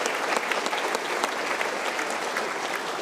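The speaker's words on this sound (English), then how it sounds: "Let's give him another round of applause," A lecture audience gives a round of applause, a steady, moderately quiet patter of many hands clapping evenly throughout.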